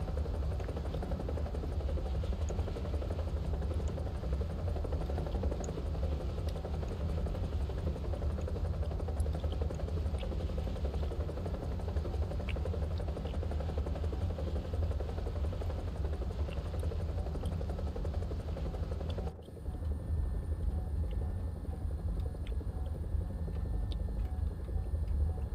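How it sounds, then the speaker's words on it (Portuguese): A helicopter in a video game battle match gives a steady, continuous whirring drone that stays level throughout and is heard alone without talk. "Esse helicóptero é tão batata que nem pra subir ele presta, velho."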